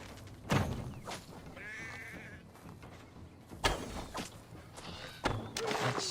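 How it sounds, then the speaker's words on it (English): A sheep in the video game Assassin's Creed Valhalla bleats in a strained, wavering cry amid thumps and rustling movement, with a few sharp knocks and scattered noise around it. "That sounds like a sheep, and not a happy one."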